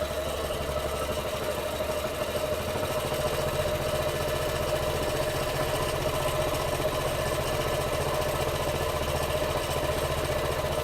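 A Honda GX160 engine running slowly under no load on a mix of 80% sugar-water and 20% petrol, a steady close mechanical drone with a continuous low throb and even idle pulse, no voices.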